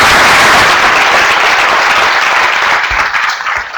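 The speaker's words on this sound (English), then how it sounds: "Let's give them a round of applause" A room full of conference audience members applauds the panelists, loud sustained clapping that gradually thins toward the end.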